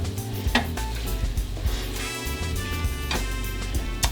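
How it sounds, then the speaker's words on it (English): Onions fry in a pan for beef stroganoff, with a soft steady sizzle under scraping and stirring clatter from a utensil against the pan. A faint tonal hum runs throughout. "we're gonna cook the onions in this"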